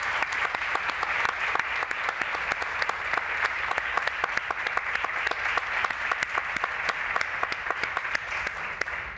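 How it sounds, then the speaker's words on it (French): An audience at a formal French-language information-rights session applauds steadily, a dense patter of many hands sustained throughout at moderate distance, with no voices over it. "Vous pouvez les applaudir."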